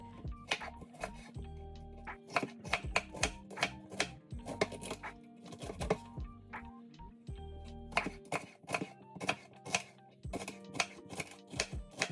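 Vegetables being chopped on a cutting board, a quick irregular run of sharp knife taps in close clusters, fairly quiet and clear with no talking.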